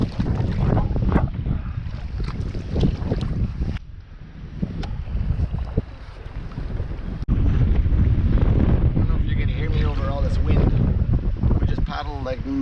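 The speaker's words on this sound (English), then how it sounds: "It's windy and rainy, but we got a break, so we'll see how it goes." Gusty wind buffets the microphone on a rainy canoe trip across a lake in Algonquin Park, loud and uneven throughout, with people talking under the rush of the wind.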